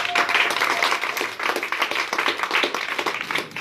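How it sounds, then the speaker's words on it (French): A church congregation clapping and applauding to acclaim the Lord, dense lively applause with rhythmic hand claps that swell and dip steadily, loud and close. "acclame fortement le Seigneur"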